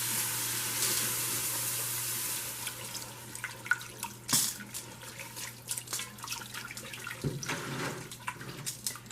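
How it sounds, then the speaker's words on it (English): Milk being poured into a pan for homemade mac and cheese on the stove, a steady liquid pour in the first couple of seconds followed by soft clinks and light kitchen handling, with a faint hum underneath and no talking. "And then we're going to start adding the milk."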